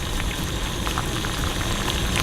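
A pot of liquid for a lye chemistry experiment boils steadily, a dense continuous bubbling hiss with scattered pops, close and fairly loud.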